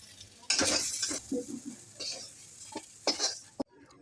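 Potato and radish pieces being stirred in a frying pan, with bursts of sizzling and the scrape of a utensil against the pan coming in uneven strokes, close and fairly quiet, ending abruptly.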